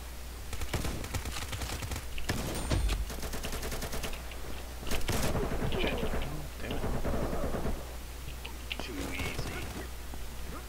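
An M4 rifle fires in the shooter game Combat Master in repeated rapid automatic bursts, loud and close, with short pauses between volleys.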